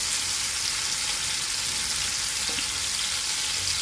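Pieces of river fish frying in hot oil for a Kerala fish dish, a steady dense sizzle that stays even and close throughout, with a faint low knock partway through.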